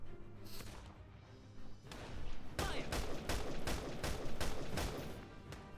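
Rapid bursts of gunfire from the Valkyria Chronicles 4 video game, a dense volley of loud, closely spaced shots crackling through the latter half after a quieter opening.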